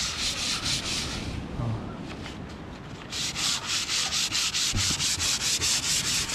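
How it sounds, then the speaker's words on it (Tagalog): Steady sanding with 120-grit sandpaper in a rapid back-and-forth rhythm, loud and close, with a brief lighter stretch partway through before the strokes resume at full strength. "Nilihain siya. Ang liha ay 120."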